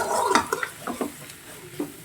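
Boiled potatoes tumble into a pan of onion egg gravy with a few soft, wet thumps and spoon scrapes, moderately close, followed by quieter stirring with no talk.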